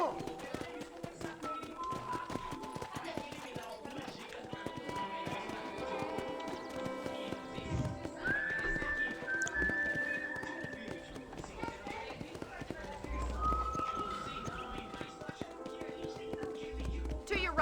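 Horse hooves clip-clop at a steady run in the Red Dead Redemption video game, continuous under background game music and dialogue, with voices talking throughout.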